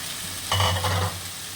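A short burst of shrimp frying with black and white mustard paste in a pan, sizzling and being stirred close up for about half a second, then dropping back to a low hiss.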